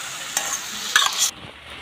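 A home curry of potato, snake gourd and crumbled fish roe stir-fried in a pan, with soft steady sizzling and a few scraping stirs of a spoon against the pan.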